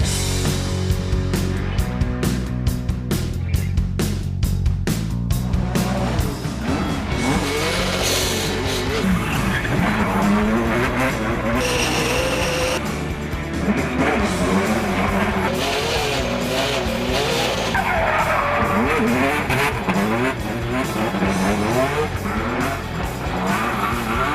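A drift car slides along the Serra do Rasto mountain road, engine revving hard with long screeching tire squeals that rise and fall, loud and continuous throughout.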